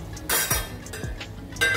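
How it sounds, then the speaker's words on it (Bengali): A lid comes off a cooking pot of rohu fish curry with drumsticks and potatoes: a few sharp metallic clinks and scrapes, close by, separated by short pauses, with no talking. "আমি এবার ঢাকাটা খুলে নিচ্ছি।"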